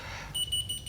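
A whistle-activated key finder keychain beeps in short, shrill electronic bursts, about three quick pulses in under a second, close and loud over a steady background hiss.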